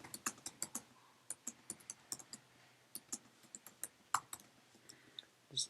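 Typing on a computer keyboard while entering JavaScript code: rapid, uneven clicks of individual keys, close and fairly quiet, with short pauses between bursts and no talking.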